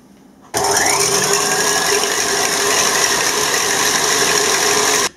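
Electric mixer whisking egg whites for a cooked meringue custard cream, a steady, loud motor whir with a rattling, ratchet-like texture that starts abruptly and runs continuously without talk.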